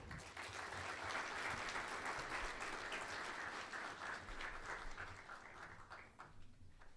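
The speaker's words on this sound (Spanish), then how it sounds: "recibamos con un caluroso aplauso al maestro Bertrand Lobjoie" Audience at a lecture on archaeology welcomes the speaker with warm, continuous applause, a dense wash of clapping that holds steady and then thins out near the end.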